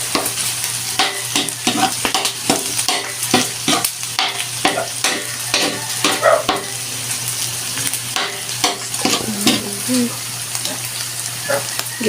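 Chopped onions sautéed with garlic for pancit palabok, stirred in a hot pan with steady sizzling and frequent scraping, clinking spatula strokes throughout, close and fairly loud.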